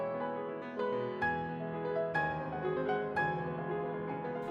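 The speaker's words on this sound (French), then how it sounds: "Ce que tu viens d'entendre, c'est Liebestraum de Liszt." Liszt's Liebestraum played on piano, soft, lyrical chords and melody notes struck one after another with ringing sustain, quiet and alone without voices.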